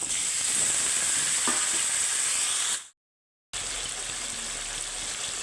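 Chicken pieces fry in hot oil for a chicken korma, making a loud, steady, hissing sizzle with stirring noises. The sound cuts out completely for about half a second partway through, then resumes just as strongly.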